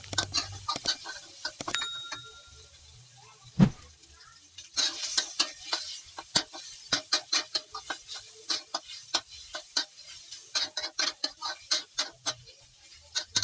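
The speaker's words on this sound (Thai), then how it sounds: "จากนั้นก็ใส่หมูของเราลงไปผัดได้เลยครับ" Pork and garlic stir-fried in a hot pan: a soft background sizzle broken by frequent sharp scrapes and taps of a spatula against the pan, close and irregular, with a brief thump early on.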